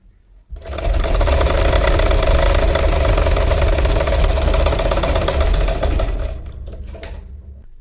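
A sewing machine stitches baby cap fabric, starting after a brief pause and running in one loud, fast, even mechanical whir for about six seconds before slowing at the end.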